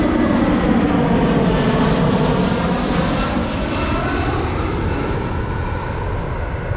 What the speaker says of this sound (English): bugger off aeroplane.